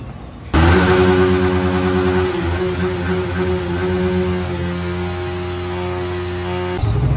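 A motorcycle engine starts up abruptly and runs loudly at a steady idle with a buzzing hum, then briefly surges near the end, during a test ride at a bike service center in Dhaka.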